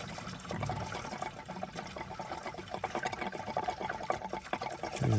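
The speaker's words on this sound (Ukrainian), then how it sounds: "Оце з цього патрубка зняли вже хомут і зараз знімаємо цей патрубок і зливаємо антифріз." Antifreeze pours from a detached coolant hose on a pre-facelift Skoda A5, a steady splashing, trickling stream of liquid heard up close and continuing without pause.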